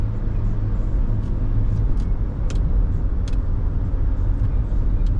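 Inside a 1995 Mercedes-Benz E320 Cabriolet while driving, a steady low road and engine rumble fills the cabin, with a few faint clicks over it.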